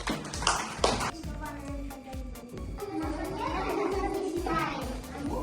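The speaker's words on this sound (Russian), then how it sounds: "давайте похлопаем" Children in a kindergarten classroom clap together, a close, rapid patter of many small hands that keeps going for several seconds, mixed with children's voices.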